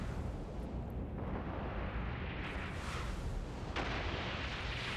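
Missile volleys and explosions during a frigate battle in EVE Online, a dense, continuous rumble of overlapping blasts and booms with no clear gaps, steady and loud throughout.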